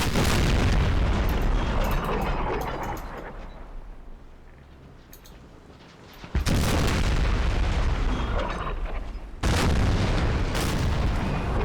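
Ship cannons fire broadsides during a naval battle in Empire: Total War, with heavy booming volleys that cut off abruptly, then a quieter lull, then two more sudden loud volleys.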